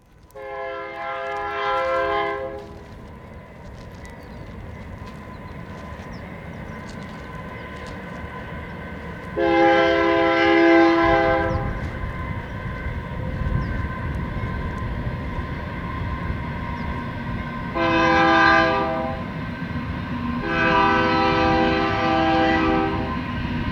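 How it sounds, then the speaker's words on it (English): Repeated long blasts of a train whistle at a desert railroad crossing, four harmonic horn sounds with pauses between them over a steady rumble of passing rail cars, loud and fairly close. "You'll hear a train whistle blast between each of the writing episodes."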